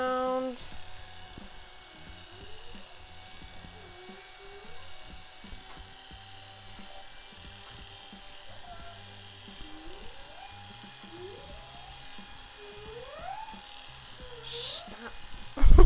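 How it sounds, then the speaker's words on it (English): Electric hair clippers buzz steadily and close up while cutting hair for a short soccer-style haircut, a continuous motorized drone with pitch shifts as the blade moves through hair. "you're going to start with the highest clipper."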